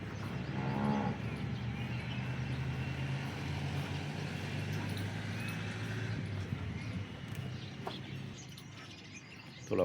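A dairy cow that has recently calved lets out one deep moo near the start, then the barn carries on with low shuffling and distant farm noise.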